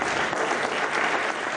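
Dense, steady applause from a crowd at a Portuguese medical prize ceremony as Liane Costa receives the Banco Carregosa award, loud and continuous throughout with no break.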